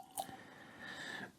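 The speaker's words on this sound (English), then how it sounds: "And let's pour ourselves a little dram." A short, soft trickle of whisky pouring into a glass, quiet and close, with a faint clink near the start.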